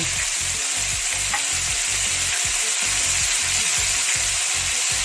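Whole squid deep-frying in hot oil over medium heat, Korean style, with a loud, continuous sizzle and crackle close up, broken by faint pops and steady bubbling throughout, no talking.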